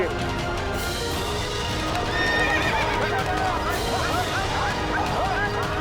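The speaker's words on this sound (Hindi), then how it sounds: "हुकुम, अश्व बिफर गया है।" An agitated horse neighs and whinnies repeatedly amid a dense, noisy scene, with hooves clopping and a dog barking in the background.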